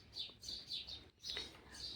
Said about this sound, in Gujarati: ચકલીઓ એકદમ ચીંચી કરે ને કુંકવાટ કરે છે